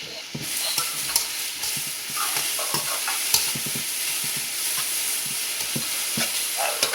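Peppers and other vegetables stir-fry in a pan for a chicken ramen dish, with a continuous close sizzle broken by frequent scraping and tapping of a utensil, no talking.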